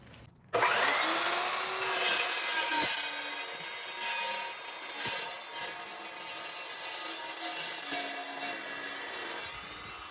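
Half-inch by two-and-a-half-inch steel flat bar being cut vertically by a power saw, a steady loud grinding whine that starts abruptly and runs continuously to the end, with no talking.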